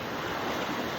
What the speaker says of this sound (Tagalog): Ayan ang dagat guys. Nasa tabi namin.